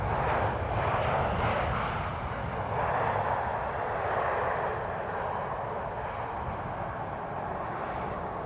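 An SAS airliner, flight 547, at Amsterdam Schiphol Airport gives a continuous low engine rumble and whoosh, swelling gently in waves, with a voice commentating over it.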